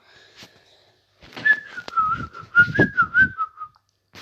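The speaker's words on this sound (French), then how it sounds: "Pardon pour siffler." A person whistles a short wavering tune up close, bright and clear, with faint thumps and clicks from the surroundings underneath.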